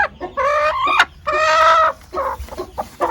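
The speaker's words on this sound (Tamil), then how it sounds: "இந்த கோழி தான் இப்போ குட்டி போட்டிருக்கிறது." A hen that has just hatched a few chicks clucks in repeated bursts, fairly close, with short calls and longer harmonic clucks and no talking.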